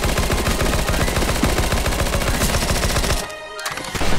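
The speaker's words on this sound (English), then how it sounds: "Just keep shooting." Sustained rapid automatic gunfire in CS:GO Zombies, a loud continuous rattle of shots that breaks off near the end before a few more rounds resume.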